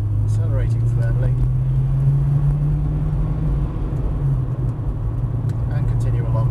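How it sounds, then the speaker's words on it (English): Golf GTI Mk2 accelerating firmly on a road, heard from inside the cabin: a loud, steady engine drone with a low rumble whose pitch climbs and then levels, lasting throughout with occasional faint voice sounds. "safe to proceed, accelerating firmly"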